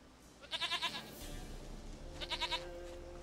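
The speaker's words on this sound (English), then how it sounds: "sweetest goat." A goat in the video game Witcher 3 gives two short quavering bleats about two seconds apart, clear and close over a low steady game background.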